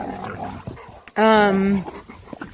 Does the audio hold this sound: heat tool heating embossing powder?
no